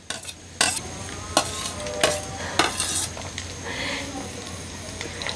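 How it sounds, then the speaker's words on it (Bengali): Flattened-rice pulao with peanuts, cashews, almonds, raisins, egg and green chillies is stirred and fried in a pan: repeated sharp spatula scrapes and knocks over a steady sizzle, close and fairly loud, with a voice heard faintly. "এখন সব উপকরণগুলোকে আলতো হাতে ভালো করে মিক্স করতে হবে এবং ভাজতে হবে।"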